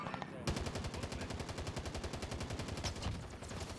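Rapid, steady automatic gunfire in a video game, a dense rhythmic stream of close, loud shots running almost without pause, with faint voices underneath.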